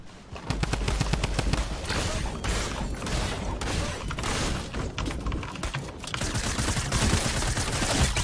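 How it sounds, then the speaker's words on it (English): Burst SMG fire in Fortnite, rapid clipped bursts of shots repeating nearly nonstop and close, loud throughout with mechanical clatter between volleys. "I love the burst SMG so much"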